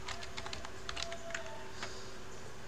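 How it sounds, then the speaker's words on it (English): Quick, light keystrokes on a computer keyboard, a close run of soft clicks typed in short bursts over a faint steady hum, with a brief pause before a last few taps. "Type Lutris in your Google or Firefox, anything."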